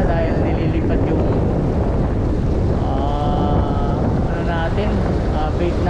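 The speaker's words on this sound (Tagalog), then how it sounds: "So malakas yung hangin." Loud, steady wind roaring and buffeting the microphone throughout at a marina in Saipan, with a faint tonal whine drifting in the background.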